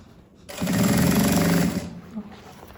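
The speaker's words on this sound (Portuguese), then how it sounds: "Agora, vamos lá costurando sem segredos." Sewing machine stitching quilted puffer (matelassê) fabric for a tote bag, a steady mechanical run of about a second and a half that starts and stops cleanly, close and fairly loud.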